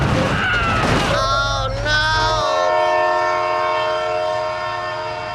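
A train in BeamNG sounds its horn in loud sustained tones, layered over a low rumble that stops partway, with the horn fading out as the train rolls past nearby.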